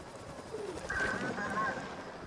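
Birds chirp with a few short, soft calls in a Sly Cooper: Thieves in Time game scene, faint and partly buried under a low background hum.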